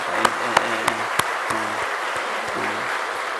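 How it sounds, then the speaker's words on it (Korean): Church congregation applauding together in a hall, a steady wash of many hands clapping with a few sharper claps standing out near the start, moderately loud with no talk. "우리 어르신들을 위해서 우리 박수로 한번 우리 경배하도록 하겠습니다"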